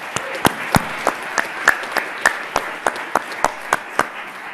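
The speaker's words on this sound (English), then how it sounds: "Let's give a round of applause for Bryce." A crowd applauds steadily, with sharp, evenly spaced loud claps standing out above the continuous patter.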